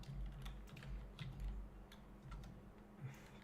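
Quiet, irregular clicks of keys being tapped on a computer keyboard during a typing practice session, soft and close over a low steady hum, with no voices.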